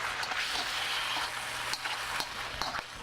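Fish frying in a pan with onions makes a continuous, moderately loud sizzling hiss, with small pops and crackles scattered through it.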